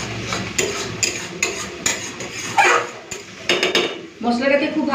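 Spice paste for khichuri stirred and fried in a pan, with repeated clanks and scrapes of a utensil against the metal pan, loud and close, in an irregular rhythm.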